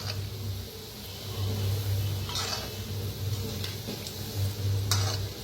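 Gulab jamun dumplings frying in hot oil at home give a steady, soft sizzle with a low hum beneath and a few faint clicks, continuous throughout without speech.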